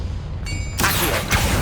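A Confringo fire spell from the Hogwarts Legacy video game bursts loudly after a brief tonal shimmer, with a second impact soon following, each a sharp broadband blast.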